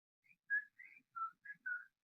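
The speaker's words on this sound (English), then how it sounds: "Then you start whistling." A person whistles a short tune of five quick notes, clear and alone against silence.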